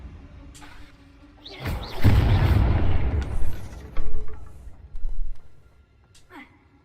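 A Confringo spell in Hogwarts Legacy bursts into a loud, booming explosion with a rumbling tail, followed by a couple of further heavy thuds, amid game sounds with no talk over the blast.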